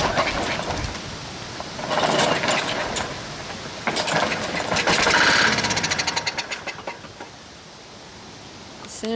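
A Lawn Boy 21-inch self-propelled mower engine sprayed with starting fluid, sputtering and catching in bursts with a rapid firing rattle that surges and then fades out.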